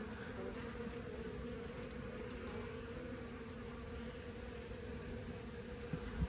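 Honey bees buzz steadily and close around an open beehive during an inspection, a dense continuous drone with no voices over it.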